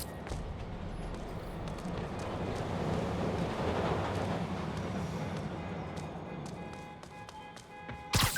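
A train rumbles along steadily in Marvel's Spider-Man, a broad, wind-like roar that swells slightly mid-way, with a few light clicks and taps near the end.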